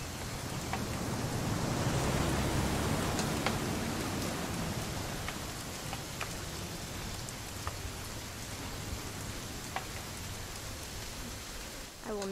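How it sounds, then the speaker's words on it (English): Steady rain in the video game What Remains of Edith Finch, pattering on a surface, with broadband hiss and occasional distinct drips, continuous throughout. "It's gonna rain the whole weekend,"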